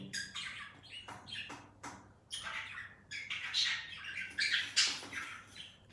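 A pet bird squawks by a window in a series of harsh, broadband calls, some near and loud, with short chirps between, over a faint steady hum and no voices.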